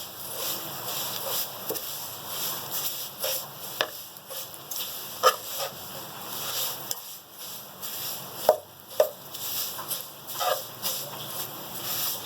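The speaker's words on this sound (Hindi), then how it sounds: "सेवइयाँ फ्राई हो चुकी हैं, इसमें 1 मिनट भी नहीं लगता फ्राई होने में।" Vermicelli frying in hot ghee gives a soft, continuous sizzle. Scattered scrapes and taps from stirring sit above it, fairly faint and close.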